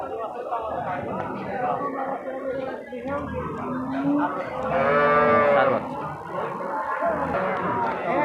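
A dairy cow sold as giving 30 litres of milk lets out a loud, drawn-out moo at the Talgachhi livestock market, rising over a steady hubbub of voices and market chatter.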